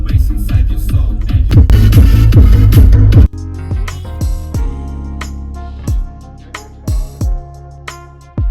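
A Proton Persona's factory head unit and speakers play bass-heavy music inside the car, loud and punchy at first with strong low thumps, then a sparser passage of distinct repeated bass hits.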